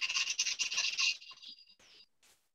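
A Dremel rotary tool buzzes loudly while spinning a model railroad truck wheel to wear in its bearing, a steady high whine for about a second that then fades as the tool pulls away, leaving a faint spinning hiss.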